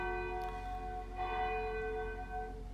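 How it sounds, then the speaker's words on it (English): A school bell rings through a steady tonal clang during a classroom recording, fairly faint and sustained, with no voices over it. "they were obviously recording during school time, so there was our bell"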